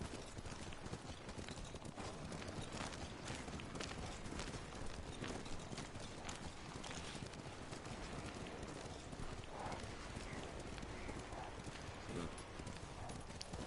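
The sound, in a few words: horse hooves trotting in video game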